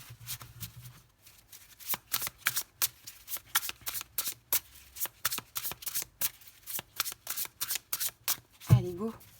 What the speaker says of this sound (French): on va poser nos 5 cartes du tarot